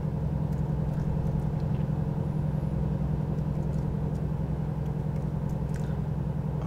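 A heavy freight truck cruises along a Kansas freeway in a driving simulator, its engine and tyre drone a steady, continuous low rumble with no breaks and no voices.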